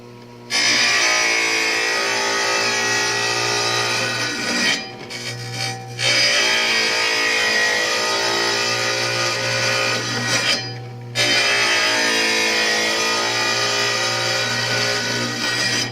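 A wet saw cuts tile in long, loud, steady passes, a grinding whine over a constant motor hum, broken by two short pauses between cuts, close up with no talking.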